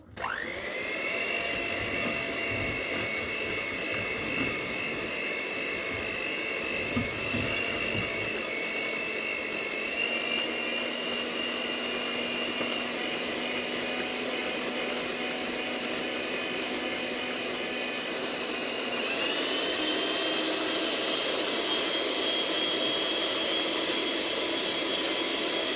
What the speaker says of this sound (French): Je vais travailler juste un peu avec le batteur.